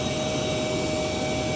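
An American Airlines jet waits at the airport gate before boarding, its engines giving off a steady, even roar and whine with no talking.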